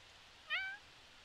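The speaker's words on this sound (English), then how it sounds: "Wait, I see a cat." A single short cat meow from The Sims 4, clear and close, rising and then trailing off over a quiet background.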